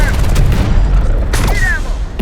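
Continuous gunfire and heavy booms from a Terminator: Dark Fate - Defiance battle rumble loudly throughout, a dense barrage with no clear gaps between shots.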